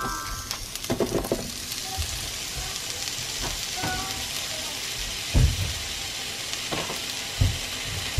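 Onion sizzles and fries in a pan while cooking nikujaga, a steady close crackling hiss with occasional clinks and scrapes of stirring.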